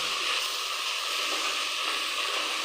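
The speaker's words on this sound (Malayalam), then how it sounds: "സവാളയും ഒക്കെ നന്നായിട്ട് വഴറ്റി കിട്ടുമ്പോൾ" Onions sautéing in a pan for a crab roast give a steady, even sizzle that holds without a break, close and fairly loud, with no voices.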